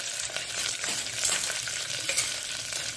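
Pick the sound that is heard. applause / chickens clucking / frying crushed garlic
frying crushed garlic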